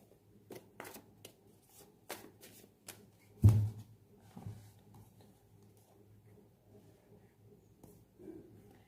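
Tarot cards being shuffled and drawn by hand, soft crisp riffles and slaps in irregular bursts, close and quiet, with one heavier thump partway through.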